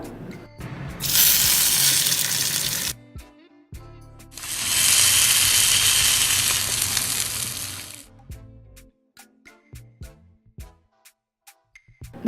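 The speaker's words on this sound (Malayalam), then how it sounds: "ഒരു പാൻ ചൂടാക്കിയിട്ട് ഇത്രയും ഓയിൽ ഒഴിച്ചു കൊടുത്തിട്ട് നമ്മുടെ ചിക്കൻ ഒന്നും കൂടി ഒന്ന് ഫ്രൈ ചെയ്തെടുക്കാം" Chicken pieces for maqluba fry in oil in a hot pan, giving two loud close bursts of hissing sizzle separated by a short pause, followed by scattered light clicks and taps.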